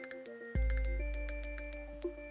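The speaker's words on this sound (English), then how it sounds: "that was the sound of the can and not a bottle" Metal energy drink can clinking, a few small bright taps and one heavier knock at close range, with faint ringing tones lingering underneath.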